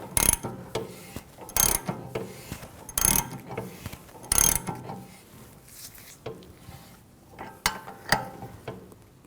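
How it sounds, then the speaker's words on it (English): Wheel bearing press tool being tightened on a 2007-2013 BMW 328i rear hub, a series of sharp metallic ratchet clicks in short bursts with quieter mechanical creaks between them, close up. "as I tighten this down, it's going to pull it right in"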